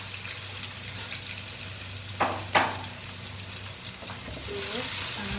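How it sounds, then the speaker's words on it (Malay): Blended lemongrass, ginger, galangal, garlic and onions sizzle in hot oil for a peanut sauce, a steady close frying hiss broken by two sharp bursts of stirring or scraping. "Jadi kita nak tumis bahan yang kita kisar dulu"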